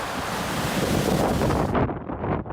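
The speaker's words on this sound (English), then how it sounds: "Strong winds led to battering waves." Strong wind roars over battering ocean waves during a December 2018 British Columbia windstorm near a pier in White Rock, a loud, continuous broadband rush with surging peaks throughout.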